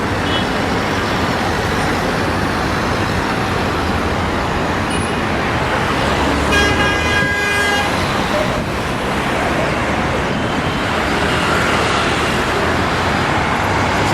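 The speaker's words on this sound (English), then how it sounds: "Traffic." Busy city traffic in Istanbul, a steady roar of cars, trucks and buses on the road, with a brief burst of higher tonal sound midway that could be a horn, all loud and continuous with no talk.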